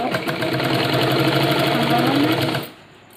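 Sewing machine stitching a pant, a fast steady mechanical whir with rapid needle ticking running for under three seconds, close and loud, then stopping abruptly.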